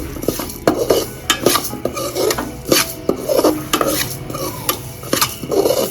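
Fenugreek, coriander, cumin, cardamom, cloves and black pepper being stirred and fried in a pan for chicken pickle, with steady scraping of a utensil against the metal and a light sizzle throughout.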